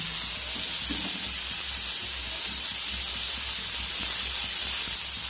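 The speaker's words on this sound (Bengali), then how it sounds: "তেলটাও গরম হয়ে গেছে, এবার এর মধ্যে আমি মাছগুলো দিয়ে ভেজে নেব" Prawns frying in hot mustard oil in a wok, a loud continuous sizzle and hiss with faint crackles and low stirring knocks underneath, no voices.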